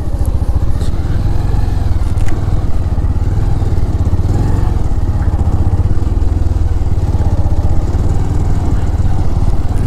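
A motorcycle rides along a sandy road with its wheels sinking into the sand, the engine droning steadily and loudly up close for the whole stretch, without speech.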